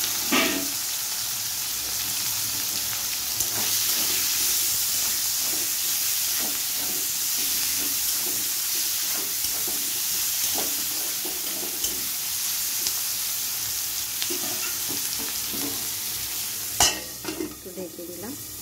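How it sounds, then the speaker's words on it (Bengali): Whole spices fry in hot oil with a steady, close sizzle and occasional stirring, then chopped onion and tomato go in near the end with a sharp burst of hissing. "ফোড়নটা আমার ভাজা ভাজা হয়ে গেছে, পেঁয়াজ আর টমেটো কেটে রেখেছি সেটা আমি দিয়ে দেবো"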